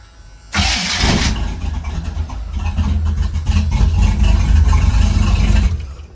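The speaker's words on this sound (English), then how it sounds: "You can tell it's firing in the pipe, which is why my pipes are getting so hot." Square body truck engine fitted with a Holley Sniper, with late timing firing into the exhaust pipes, cranks and catches abruptly, then settles into a loud, rough, rumbling idle up close before cutting off.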